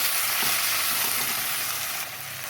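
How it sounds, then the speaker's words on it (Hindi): Ginger garlic paste sizzles and fries steadily in a pan with browned onions while being stirred, a dense continuous crackle that stays loud throughout and drops slightly near the end; no voices. "अब हम इसमें डाल देंगे लहसुन अदरक का पेस्ट। मिक्स कर लें अच्छे से।"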